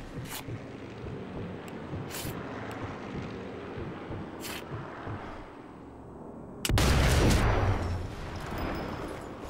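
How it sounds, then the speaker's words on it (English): A distant explosion in the video game Sniper Elite 4 arrives as a sudden loud boom with a rumbling tail, set against steady wind and ambient battlefield noise, with a few sharp reports earlier. "The explosion can be heard."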